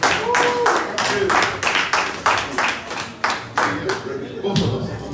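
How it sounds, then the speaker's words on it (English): An audience claps in a sustained round of applause for a donor at a London fundraiser, dense overlapping hand claps filling the room at steady loudness, with voices mixed faintly underneath. "Let's give the gentleman a round of applause once again."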